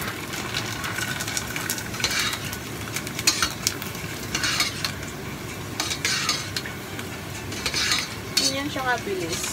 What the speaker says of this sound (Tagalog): Pag nag-pop na siya sa mantika, it means luto na siya, di ba?